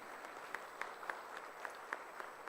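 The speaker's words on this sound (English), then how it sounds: "Kindly give them a big round of applause." Audience applause at a college orientation at Manipal Institute of Technology, Bengaluru: faint, distant, steady clapping from a crowd in a large hall, with a few sharper individual claps standing out at a fairly regular pace.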